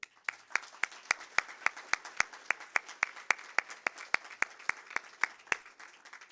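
An audience claps through a Cuyahoga Falls City Schools board of education meeting: a steady run of sharp, evenly spaced claps, fairly close, with little talk.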